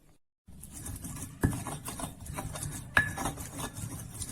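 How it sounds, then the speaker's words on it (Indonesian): Shallots, garlic and pepper are ground into a paste in a mortar, making close, steady gritty grinding and rubbing with a couple of sharper knocks of pestle against stone. "Kemudian haluskan bawang merah, bawang putih dan ladanya ya sampai halus."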